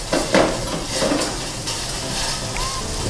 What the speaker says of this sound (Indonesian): susu kita aduk terus jangan sampai ada gumpalan ya, sampai benar-benar larut